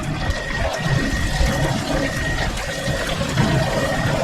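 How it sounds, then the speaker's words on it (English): A whole deep-fried turkey is held up on a hook above the fryer, and hot oil runs off it in a steady trickle and drip that stays continuous and fairly close. "we'll just hold it up and let it drain"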